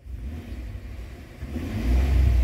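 A 2013 Ford F-150 with the 3.5 EcoBoost engine runs at idle with a low rumble, then revs up louder toward the end, heard close and alone.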